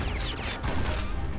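Gunfire in the video game Bastion, one shot from a mortar-style weapon, a dense loud burst with a rough crashing tail, heard on its own over game background sound.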